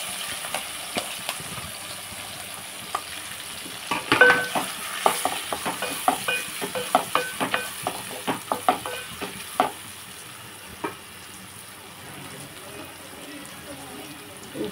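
Green chilies and chopped onion pieces frying in a pan, with scattered crackles and stirring scrapes clustered in the middle, then a steadier low sizzle toward the end.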